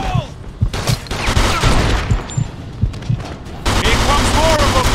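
Rapid gunfire in a shootout from the game Mafia 2, with repeated sharp shots in quick succession against a busy background, while voices speak intermittently underneath.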